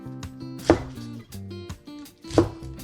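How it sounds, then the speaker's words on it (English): A knife chops green onion stems on a cutting board in a run of close, dull taps, two of them landing much harder, with no speech. "So the green part, we're going to cut them about an inch and a half strands"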